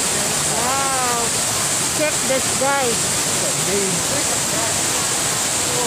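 Loud continuous rushing of a waterfall at the Hacienda Escudero waterfall restaurant, a dense steady roar filling the scene while someone talks briefly over it and birds chirp in the background.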